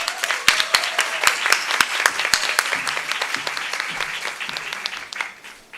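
Audience applause fills a legal congress hall as a woman lawyer is introduced at a plenary on female leadership in law, with dense, loud clapping and sharp individual claps that swell and then taper off toward the end.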